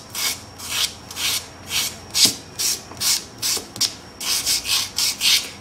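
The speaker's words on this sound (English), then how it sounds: "We're then going to use our Cemanti buffing sponge all over the nail surface, and that's just to remove shine." Cemanti buffing sponge rubbed over a fingernail surface to remove shine, heard as a quick series of about a dozen close, raspy strokes in a steady rhythm with no talk.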